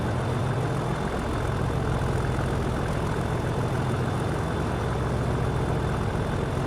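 Diesel engine of a train on the Huddersfield line, a steady low rumbling drone heard from outside the carriage, continuous and fairly loud with no talk over it.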